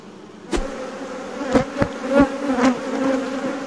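Honeybees buzz steadily around an opened hive during an inspection, a close continuous drone with a few louder passes as single bees fly near.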